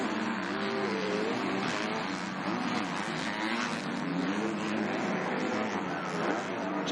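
Kawasaki MX2 motocross bikes race at the 2022 MXGP of Patagonia, Argentina. Their engines snarl and rev in a dense, continuous roar that holds steady throughout.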